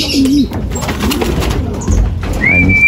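Racing pigeons coo in a loft as birds come in after a derby training flight, a soft low rolling coo repeating near and close over steady outdoor background noise, with a few faint chirps.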